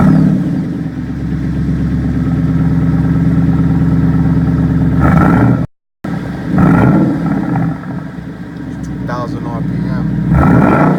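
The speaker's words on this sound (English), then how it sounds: "I'm just gonna do a quick cold start here. This is with the restrictor plate from the factory." A Ford Boss 302 V8 with its factory restrictor plate fires up from cold and settles into a loud, steady rumbling idle, interrupted by a brief cut in sound before the idle resumes with small revs near the end.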